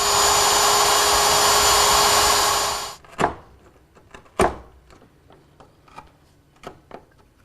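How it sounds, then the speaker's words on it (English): A router fitted with a 3/8 inch straight bit whines steadily while freehand cutting mortises in walnut, then spins down and stops, followed by a few sharp knocks and clicks of handling the wood. "I'll remove the material with a 3/8 inch straight cutting bit, freehand"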